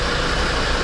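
Marine engine with fresh water cooling on a Jeanneau NC 33 motorboat running at a bit over 4,000 RPM, a steady close droning hum with no talk.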